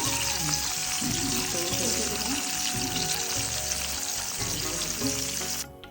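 Dried fish fritters wrapped in bottle gourd leaves fry in hot oil, giving a steady, close, dense sizzle that holds evenly throughout and cuts off abruptly at the end.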